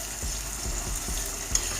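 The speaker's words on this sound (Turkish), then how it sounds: "Salça da güzel kızardı." Steady sizzling of tomato paste frying in a pan, with soft periodic scraping strokes as it is stirred, close and continuous with no voices.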